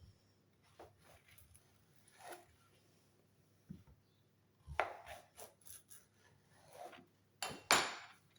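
A knife slices courgettes in half on a cutting board, with sparse soft cuts followed by sharper knocks of the blade hitting the board, close and otherwise quiet.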